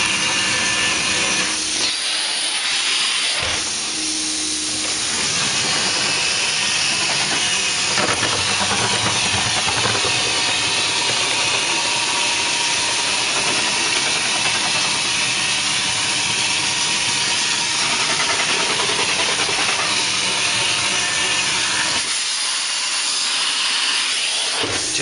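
A Rotovac 360i carpet cleaning machine runs steadily at close range, a loud continuous hissing roar with a few brief dips near the start and end.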